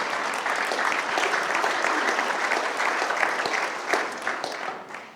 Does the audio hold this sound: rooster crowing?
no